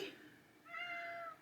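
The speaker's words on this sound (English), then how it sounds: "Those of you who have cats, you know how much they just like to talk." A house cat lets out a single short, faint meow in a quiet room, rising toward the end.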